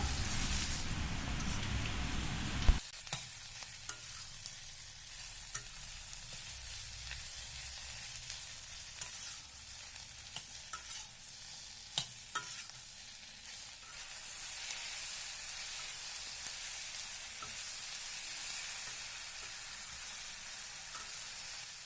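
Onions frying and sizzling in a pan for a Tamil chicken kulambu, a steady soft hiss that runs throughout, with a sharp clatter near the start and a few light clinks of stirring.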